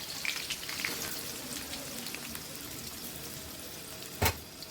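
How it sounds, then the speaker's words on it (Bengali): Onions frying in ghee for crispy fried-onion beresta, a steady close sizzle and crackle throughout with one sharp clatter near the end. "পেঁয়াজ বেরেস্তার জন্য পেঁয়াজটা দিয়ে দিলাম"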